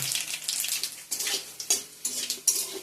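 Black cumin seeds frying in hot oil in a pan for a taro-leaf dish, crackling sizzle punctuated by several scraping stirs of a utensil against the pan, close and bursty, no voices.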